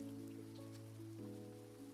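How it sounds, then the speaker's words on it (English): Steady rain falling in the farming video game Grimshire, a soft continuous patter layered under sustained tonal game music, with no talking. "It's been raining all day though"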